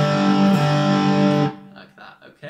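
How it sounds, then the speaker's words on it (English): A distorted electric guitar chord played on two middle strings rings loud and sustained for about a second and a half, then cuts off. Short, quieter choppy bursts follow. "So that's the first chord we're strumming. And in this riff, we strum that twice in a row."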